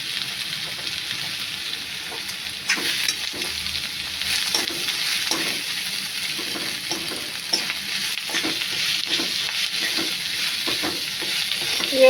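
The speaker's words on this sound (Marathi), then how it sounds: "व्यवस्थित ढवळून घ्यायची भाजी." Wild takla greens sizzle steadily in a pan with browned onion while a utensil stirs them, giving repeated scraping strokes over a continuous close frying hiss, with no talking.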